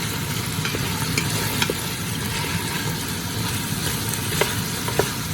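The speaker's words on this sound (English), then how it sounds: "Saute everything nicely." Onions and beef sautéing in a pan for stew, a loud continuous sizzle with scattered crackles and light stirring scrapes, close up and steady throughout, no talking.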